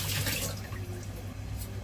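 Freshwater fish being rinsed clean under a running tap in a kitchen while preparing Hong Kong-style steamed fish, a steady, close splashing stream of water with no talking.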